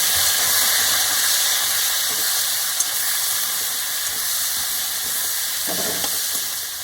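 Carrots, beans and capsicum stir-fry in a pan with a steady close sizzle and hiss throughout, with faint scrapes of stirring near the end.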